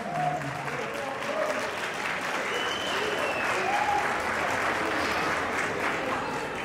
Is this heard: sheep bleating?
no